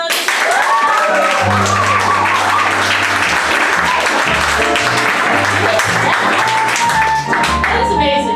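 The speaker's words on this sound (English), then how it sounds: "round of applause for Gina Romanow" Audience applause and cheering for a guest named Gina Romanow, loud and continuous, mixed with a strong bass-heavy music bed underneath.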